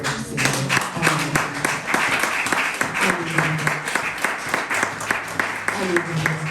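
A church congregation applauds steadily throughout, dense continuous clapping with voices and musical tones mixed underneath.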